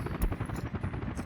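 A helicopter in the city-building game Workers & Resources chops with a steady, rapid rotor thump, loud and continuous throughout the short stretch.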